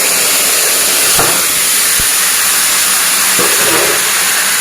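Marinated mutton sizzles in hot oil with cinnamon and bay leaf, a loud, steady frying hiss throughout with a few soft clinks of a utensil against the pan.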